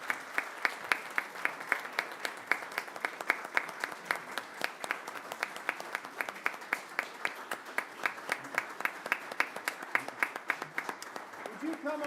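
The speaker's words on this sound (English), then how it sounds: "I think you deserve a round of applause" A council meeting audience applauds Jim after a vote, a steady run of many hand claps at moderate distance, fairly quiet, lasting about twelve seconds.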